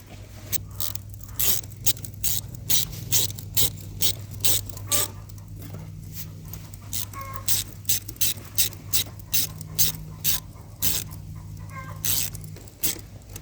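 Ratchet wrench clicking during a DIY job running water and electric lines to a pool house: rhythmic rapid bursts of close clicks in regular strokes over a low steady hum.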